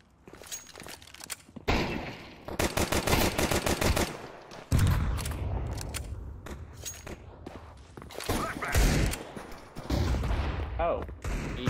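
Rapid bursts of gunfire from Counter-Strike 2 competitive play, several loud close volleys and sustained automatic fire separated by brief pauses, with a player's voice talking in between.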